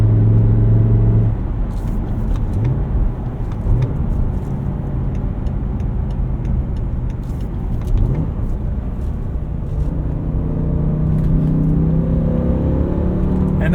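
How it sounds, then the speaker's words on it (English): BMW M5 E60 with a V10 engine and six-speed manual cruising on a highway in sixth gear around 2,500 RPM; a steady, smooth low engine drone with road rumble and wind noise heard from inside the cabin. "there's just something about the resonance, the sound, the feeling, the smoothness of a V10"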